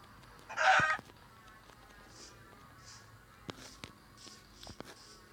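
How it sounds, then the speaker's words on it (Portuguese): A chicken in a video game gives one loud, close cluck, followed by a few faint, scattered clucks and clicks over quiet background ambience. "Ó, uma galinha aqui, vou matar ela."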